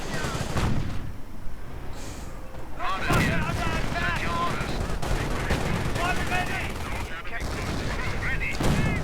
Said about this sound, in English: More artillery going in